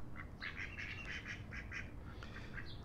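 A duck on the water quacks repeatedly in a rapid, uneven string of nasal calls, moderately close, with a steady outdoor background and no talking.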